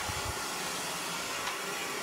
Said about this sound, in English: Pull that blow dryer away.